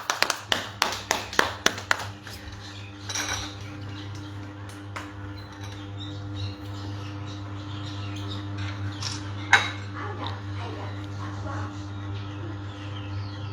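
Clapping breaks out at a birthday cake-cutting gathering, a run of sharp individual claps at the start followed by scattered taps, chirpy squeaks and a steady low hum, with faint talk in the background.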